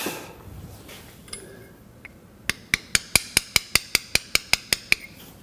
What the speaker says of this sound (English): take a little tappy tap with a punch just to finish it